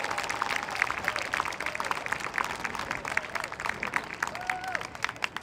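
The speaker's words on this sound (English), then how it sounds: "One more round of applause for these students who've been working so hard." Audience at a spring band concert applauding beginner band students, a steady wash of clapping from a crowd that lasts throughout, moderately loud with a few scattered voices and murmurs mixed in.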